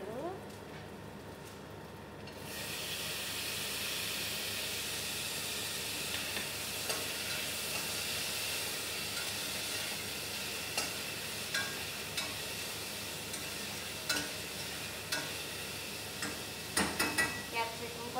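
Tomatoes drop into hot oil in a pan for lemon rice and break into a steady close sizzle, with occasional ticks and clinks of a stirring utensil against the pan toward the end.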